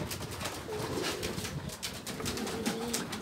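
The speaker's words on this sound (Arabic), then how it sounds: "الحمد لله دابا الحمام كله دخل" Pigeons return to their loft and coo softly and steadily, the low, rolling calls repeating in the background with faint rustling, no voices.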